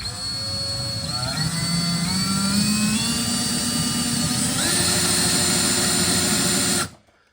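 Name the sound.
electric drill drilling into metal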